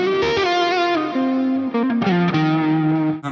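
ESP Custom Shop electric guitar played through a Soldano amp capture with distortion, a sustained overdriven melodic line of bent and sliding notes ringing loud and alone for a few seconds.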